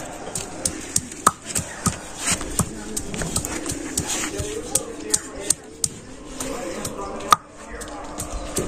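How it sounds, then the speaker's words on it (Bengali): Ginger is ground into paste by hand on a stone, giving sharp, irregular knocks and grinding strokes close by, with voices in the background. "আদা গুলো বেটে নিতেছি।"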